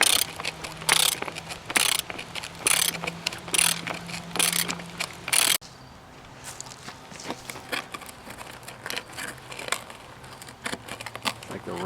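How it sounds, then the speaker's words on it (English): A ratchet wrench on the front wheel of a 1970 Honda Z50 minibike gives off bursts of quick clicking turns with pauses between, close and fairly quiet, followed by softer mechanical handling noises. "Ratchet on both sides,"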